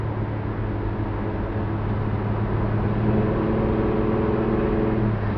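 A 383 stroker V8 in a 1965 Chevrolet Chevelle idles and revs with a steady, throaty hum that rises slightly in pitch, close by and without talk.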